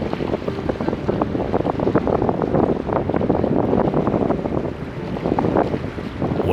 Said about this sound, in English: Because it was a stormy day, the water was rather choppy.